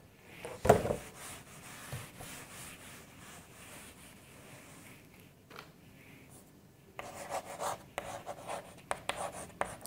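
A teacher writes lines on a board for an English class, giving faint scratchy scraping strokes, more frequent near the end, with quiet pauses between and no talking.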